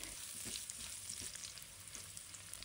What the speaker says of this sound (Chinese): 肉片在日油里滋滋作响，渐渐逼出油脂，边缘滑起焦香时，放入蒜片爆香